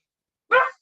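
One short, close dog bark rings out alone against silence in a home setting during a hockey picks show.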